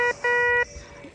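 Two electronic beeping tones from a Pancky 0075 metal detector signalling a target, a brief chirp followed by a longer steady tone, close and clear, at Lake Havasu, Arizona.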